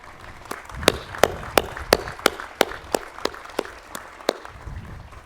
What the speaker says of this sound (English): we're going to give you another round of applause